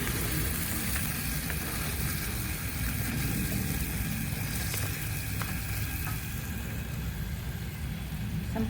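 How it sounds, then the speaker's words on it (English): Karahi chicken frying in a pan with ginger slices and green chili, a loud, continuous close sizzle with faint stirring scrapes running through it, and no voices. "give it a stir"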